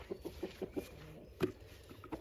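Adult chickens, hens and roosters, clucking in a quick series of short, soft calls, close by and fairly quiet, with no talking.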